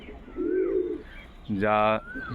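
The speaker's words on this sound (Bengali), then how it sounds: "এই যে মাদা পায়রাটা দেখুন, একদম বাড়ির পায়রা আমার" Low, soft cooing from a nearby domestic pigeon comes in two short bursts, with another bird's call and light background noise.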